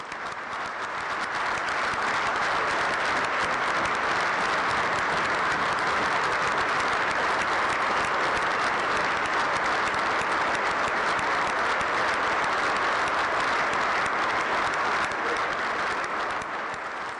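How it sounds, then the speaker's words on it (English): A crowd at an Illinois public gathering applauds Brevin and his family with steady, dense clapping that holds strong and even for the full stretch, without talk. "Brevin and his family are here today, and let's give them applause."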